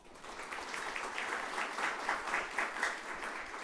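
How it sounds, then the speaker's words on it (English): Audience applause at a panel event on Ohio charter schools, a steady wash of many hands clapping at moderate distance, rising slightly and continuing throughout. "You can give Aaron a round of applause."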